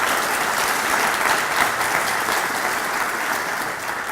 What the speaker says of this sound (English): Could I get a round of applause for everybody that put these together?